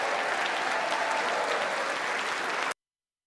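A large crowd at a US State of the Union address applauds steadily and loudly, a dense wash of clapping that holds even for nearly three seconds, then cuts off abruptly into silence.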